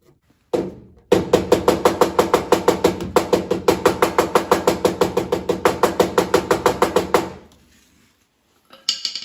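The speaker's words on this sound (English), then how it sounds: "Now we take a ball peen hammer, find a hole somewhere in here." A ball peen hammer taps metal in a fast, even run of about thirty sharp, ringing strikes, close by. A brief pause follows, then one more clink.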